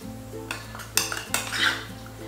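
A spoon mixes roasted gram flour into a chicken kofta mixture in a bowl, giving scattered clinks and scrapes against the dish over a low steady hum, with no talking.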